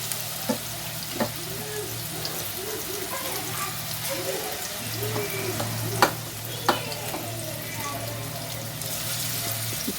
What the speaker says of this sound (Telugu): ఇది మొత్తం అంతా ఫ్రై చేయాలి కదా